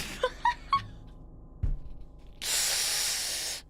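Fire hisses in the puzzle video game Slayaway Camp, a bright, steady rush lasting about a second that follows a few short chirpy game blips and a low thump.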